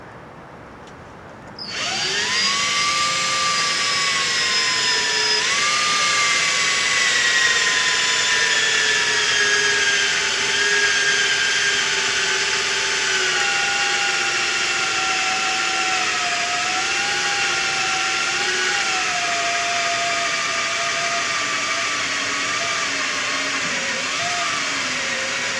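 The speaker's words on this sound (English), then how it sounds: "we've drilled the 4 bolt hole patterns" Electric drill boring bolt holes into a gimbal ring, a loud steady high-pitched whine starting after a short pause and holding for the whole stretch, with slight pitch dips as the bit loads up in the metal.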